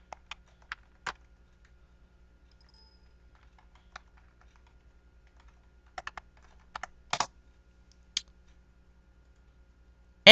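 Keys clacking on a computer keyboard as a username and password are entered, sparse clusters of sharp clicks separated by pauses, fairly close and alone in a quiet room.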